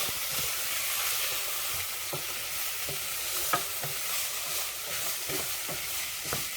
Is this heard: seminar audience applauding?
no